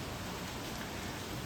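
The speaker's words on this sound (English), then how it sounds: "I've just shown you the rain and the scenery." Rain falling on a scenic landscape as a dense, even hiss with no breaks and no voices.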